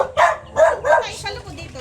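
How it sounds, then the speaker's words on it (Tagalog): A dog at a home in the Philippines gives a few sharp, close barks in a quick uneven burst, then quiets, with faint background noise underneath. "May bago na naman kayong aso ah"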